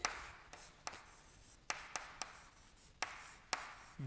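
Chalk or marker writing on a board during a lesson, quiet scratchy strokes broken by several sharp taps in an uneven rhythm.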